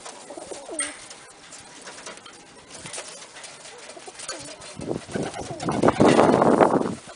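Birmingham Roller pigeons coo softly in a home loft, low murmuring calls spread across the clip, with a louder rustle of wings or movement near the end.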